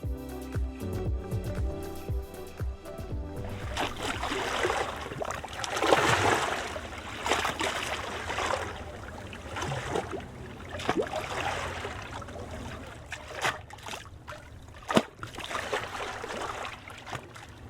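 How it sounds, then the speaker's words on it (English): Waves wash and splash against the Dalmatian coast near Split in a steady, broad rush, with brighter bursts of spray rising and falling; no voices. "I can go really nice down to the water splash to get this sound"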